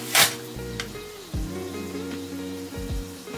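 Dinner sizzling in a pan on the stove, a steady low frying hiss broken by a few clatters and scrapes of stirring, close and unvoiced.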